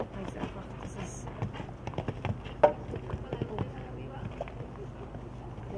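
Horse hooves clip-clop at close range, a run of irregular taps and thuds with one sharp louder strike, amid ongoing background noise and murmured voices.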